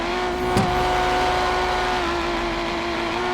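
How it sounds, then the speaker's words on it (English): A drift car in a driving game does a burnout on new tires, a sustained engine drone with a steady tire squeal and a sharp brief burst near the start, loud and continuous with no talking. "the burnouts are a little bit easier"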